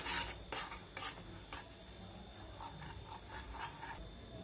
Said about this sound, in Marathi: आता आपण त्याच्यामध्ये रवा मिक्स करून घेऊया आणि हे सतत हलवत राहूया